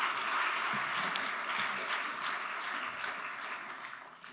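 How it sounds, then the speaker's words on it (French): Conference audience applauding to welcome a speaker onto the stage, a dense, steady wash of clapping that holds for several seconds and slowly tapers near the end. "Je vous prie de l'accueillir sous vos applaudissements"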